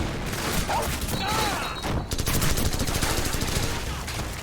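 Rapid gunfire in Call of Duty 4: Modern Warfare, dense bursts of automatic fire crackling continuously and loudly, with a brief dip in the middle before the shots resume in a tight, rattling stream.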